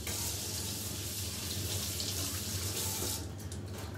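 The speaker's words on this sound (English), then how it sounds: "I like to rinse them off when they come out the bags" Tap water runs steadily into a sink while beef silversides are rinsed, a soft continuous splashing close by that changes briefly near the end, with no voices.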